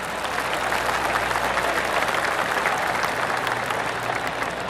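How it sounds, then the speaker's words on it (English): A golf gallery in PGA Tour 2K23 roars and applauds steadily for a green shot, a dense, loud wash of cheering and clapping sustained throughout with no talk over it. "make the crowd go wild"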